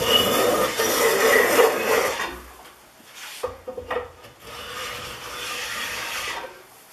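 A Stanley No. 148 match plane cuts a tongue along a wooden board, giving close rasping strokes separated by a brief pause.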